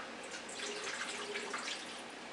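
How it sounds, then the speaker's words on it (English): Tap water runs into a container in a kitchen, a faint steady splashing and trickling rush heard alone for a couple of seconds. "So I'm going to fill up this water container."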